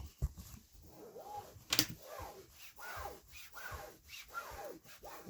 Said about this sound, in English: Let's burnish that out nicely.